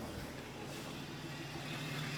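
BMW 5 Series with a 3-liter engine idling steadily while running on a jump starter with the battery disconnected, a low continuous rumble heard close and alone.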